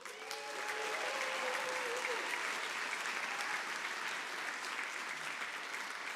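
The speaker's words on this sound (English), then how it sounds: "Please give them a big applause." An audience claps in a sustained burst of applause at a traditional and global roots music concert. The dense clapping holds steady for several seconds, and a brief tonal sound rises early on.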